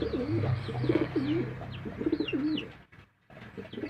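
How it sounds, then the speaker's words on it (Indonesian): A male white homing pigeon coos repeatedly in soft, rolling phrases, with a few higher chirps from other birds mixed in, close by, before a brief lull near the end. "Ini adalah merpati pos putih."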